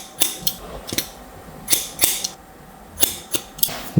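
Scissors snip through curly hair in a haircut, about a dozen sharp metallic cuts in irregular clusters, close and crisp against a quiet room.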